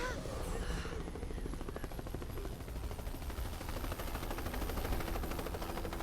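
A helicopter from the Netflix anime Gamera Rebirth thuds steadily overhead, its rapid rotor chop loud and continuous throughout, with a voice briefly heard beneath it.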